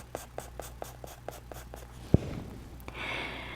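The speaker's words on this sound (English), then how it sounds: "And I'm going to just put in some scratch marks. See, all over the tree here with my medium charcoal pencil or 2B." A medium 2B charcoal pencil scratches quick marks across paper in an even rhythm of about eight crisp strokes. A sharp tap follows, then a faint hiss, all up close and quiet.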